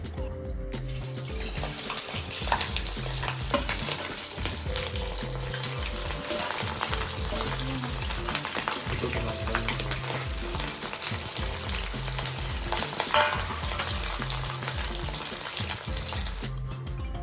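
Large pieces of idly frying in hot oil, a dense, continuous close sizzle and crackle with bubbling, steady and fairly loud throughout, no talking.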